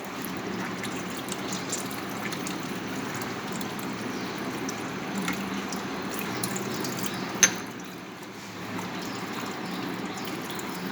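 Tap water runs steadily while a lab pipette is washed, a faint continuous splashing stream broken by one brief sharp click partway through.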